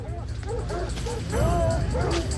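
Hunting dogs yip and bark in a rapid, excited series of short calls, with some whimpering, over a rumbling outdoor background.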